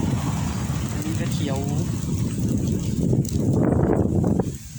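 Wind blowing at the Khao Phraya Doen Thong mountain viewpoint, a close rumbling buffet across the microphone under someone talking, gusting louder near the end before cutting off.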